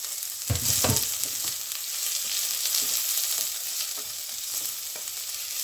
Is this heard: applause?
no